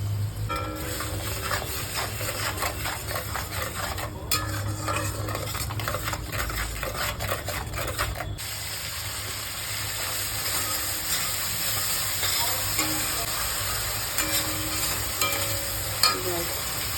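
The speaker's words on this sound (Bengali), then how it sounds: "মশলাটা কষা হয়ে গেছে" A spice masala with turmeric and salt being stirred and fried in a pan, a continuous close sizzle and hiss broken by scraping spoon strokes, with no talk over it.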